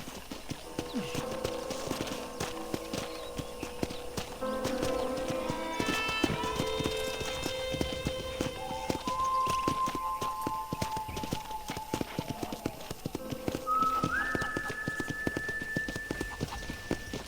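Horse hooves clip-clop at a steady riding pace in the Red Dead Redemption video game, a continuous rhythmic patter under tonal game music, with a brief whinny-like tone and faint talk in the background.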